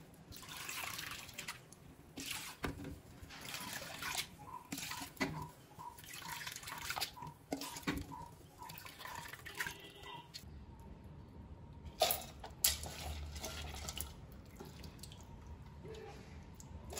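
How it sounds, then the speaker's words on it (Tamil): Water trickles and splashes steadily as urad lentils are rinsed in a bowl to remove their skins, with soft sloshing and occasional clinks, close by and moderately quiet. "இப்போ நாங்கள் நல்லா கழுவி இந்த தோலெல்லாம் நீக்கி கொள்ள போகிறோம்."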